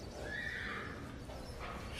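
A competition horse from France gives a loud, close whinny that rises and wavers before trailing off, with faint shuffling behind it.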